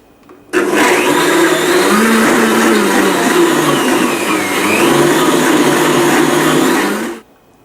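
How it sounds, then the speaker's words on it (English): A blender on high whirs through a banana and honey smoothie with pear juice and vanilla, a loud, even motor roar that kicks in sharply, holds steady with a slight mid-dip, then cuts off. "Blend this on high for 20 to 30 seconds"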